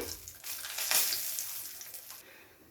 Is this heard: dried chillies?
yes